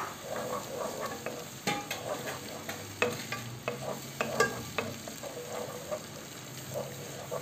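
Tomato fries in a pan with a steady sizzle, while a spoon stirs and scrapes through it in clustered clicks and knocks at close range.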